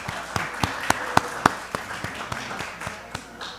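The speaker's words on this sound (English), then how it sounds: "Y'all give her a round of applause for putting her on the spot." Audience applause at a county board of commissioners zoning meeting: sparse, evenly spaced claps ring out at a steady rhythm in a large room, fairly light and thin rather than a full ovation.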